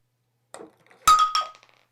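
A phone fitted with a Spigen glass screen protector is dropped onto a floor from about four feet, giving a light tap followed by a sharp glassy clack and a quick rattling bounce.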